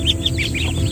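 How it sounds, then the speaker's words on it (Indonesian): Domestic ducks kept on a small farm near a forest home quack in a few short, nasal calls, close and fairly loud over a low ambient rumble. "Nah ini bebeknya."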